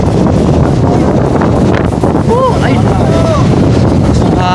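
Heavy wind buffets the microphone in a constant loud rumble beside the Marikina River, with brief voices calling out underneath.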